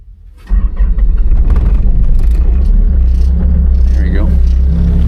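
A cold diesel engine, its glow plugs run twice, cranks briefly and fires, then settles into a loud, steady low rumbling idle close by, with a faint voice and a few clanks on top.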